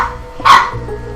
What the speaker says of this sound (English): grab the barking dog